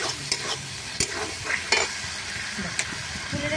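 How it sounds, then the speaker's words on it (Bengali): Spice masala for a tuna fish curry being stirred and sautéed in a pan, with a continuous loud close sizzle and occasional scraping knocks of the spoon. "এই মশলাটাকে যত ভালোভাবে কষাবে তত ভালো খেতে লাগবে।"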